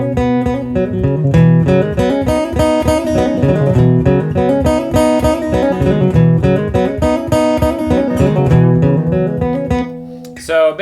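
Guitar riff from a song, a bright melodic figure looped continuously, loud and close with no talking, trailing off at the end.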